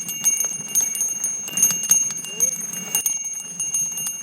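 On a mountain trail, a bicycle bell rings in repeated bright metallic dings, close and clear, set against a soft rustling background and faint voices.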